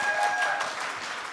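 A conference crowd at a startup ecosystem panel claps for the moderator in a short, steady burst of many hands. Faint tonal hum runs under it.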